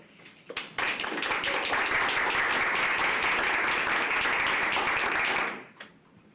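A live audience at a talk on civil rights history claps in a dense, sustained round of applause to welcome the speaker, building quickly, holding steady for about five seconds, then fading out.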